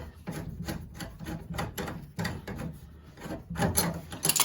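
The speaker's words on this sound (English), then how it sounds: "we are going to disconnect the trap. This one is actually hand tightened, but we'll use our channel X just in case." Sink P-trap being disconnected with channel lock pliers, producing a series of close, rhythmic rasping scrapes and gritty turns of the plastic slip nut, roughly one stroke every half second, with no talking.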